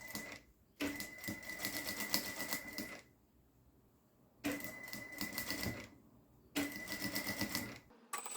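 A sewing machine stitching lace onto a small fabric towel runs in three bursts of steady, close mechanical whirring and clatter, separated by brief pauses with no talk.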